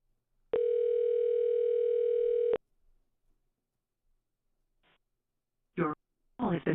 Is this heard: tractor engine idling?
no